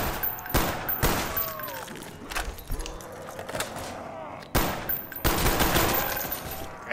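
An MP40 submachine gun in Call of Duty Black Ops, firing at zombies in repeated rapid bursts separated by short pauses, loud and close, with a voice speaking between shots.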